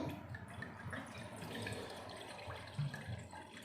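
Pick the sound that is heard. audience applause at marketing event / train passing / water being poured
water being poured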